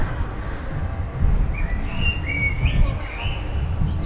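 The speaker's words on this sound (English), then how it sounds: "And the birds are chirping." Faint bird chirps and short tweets drift in the distance over a low, steady outdoor rumble in spring in Copenhagen, with a few thin calls repeating.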